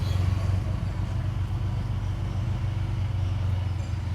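An auto rickshaw about two months old drives through city traffic, its steady low engine drone running continuously and loudly close by, with no voices.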